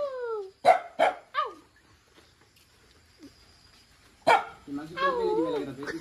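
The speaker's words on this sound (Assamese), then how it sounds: "আমাৰ হিমাংশুক দেখছা সি দেখো আকে কুকুৰে তোৰ ওপৰত দেখো সিও ভোক ভোক মাৰি মাৰিছে" A dog barks a few sharp times close by, with a short pause and then another bark, followed by people talking.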